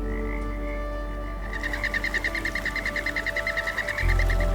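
Poison dart frog, Phyllobates terribilis, calling in a Colombian rainforest: a rapid, even train of trilling croaks that starts after a quiet moment and runs steadily, fairly close, over a soft low background.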